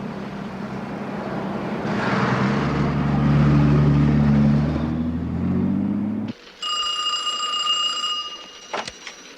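A telephone at a command center rings in bright, repeating electronic trills near the end, following a stretch of loud low rumbling engine-like noise.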